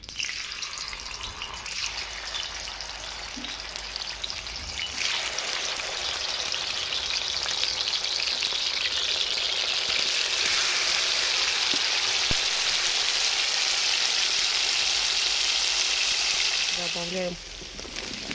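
Meat sizzling in hot oil in a pan for a homemade stew, a steady loud crackling hiss that swells and holds, with people talking nearby and a brief clink near the end.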